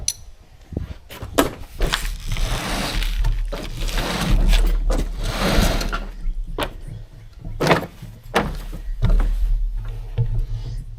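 A heavy toolbox is shifted around a cluttered space, giving irregular knocks, scrapes and metallic rattles of its contents, close by, in scattered bursts.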